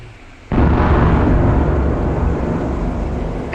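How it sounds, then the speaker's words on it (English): A distant CBU-97 cluster bomb explosion in the DCS flight simulator, heard from an A-10, arrives after a quiet pause as a sudden deep boom, then rolls on as a long, heavy rumble that slowly fades. "the further away you are, the more delayed the explosion,"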